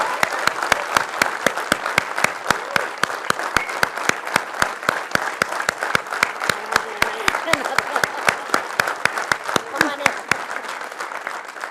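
Audience at an Atomy India felicitation event claps in a steady, rhythmic beat while a guest is welcomed onto the stage, sharp evenly spaced claps running for about ten seconds before stopping.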